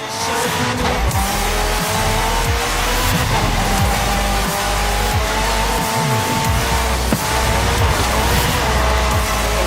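Loud, steady engine roar of a car pushed hard through a time trial in Forza Horizon 5, with repeated gear-shift dips, rising revs and tire squeal through corners, continuous and close throughout.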